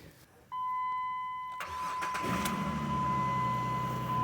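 A Jeep engine cranks over and catches on a GOOLOO jump starter, with an electronic tone, a short crank and then a steady running idle, close and clear.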